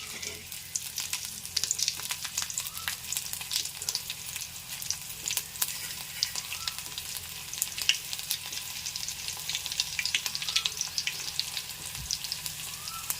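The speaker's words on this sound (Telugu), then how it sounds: "ఇప్పుడు మనం తాలింపు పెట్టేస్తాను. ఓకే, ఎల్లుల్లిపాయలు వేసాను" Chopped garlic sizzles steadily in hot oil as the tempering for a spinach dish starts, a close, continuous crackle with fine popping throughout and no talking.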